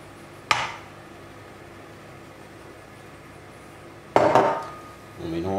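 Cake batter for a Swedish apple, almond and cardamom cake is mixed with flour in a bowl, giving a couple of sharp utensil clinks against the bowl followed by soft scraping, quiet and close.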